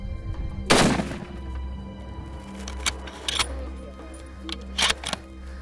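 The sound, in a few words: rifle shot fired at red lechwe during hunt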